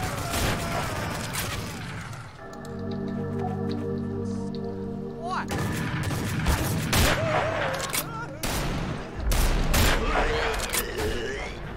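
Gunfire in the video game Treason, sharp rapid shots in bursts with a sustained tonal stretch between them, with voices talking over the action.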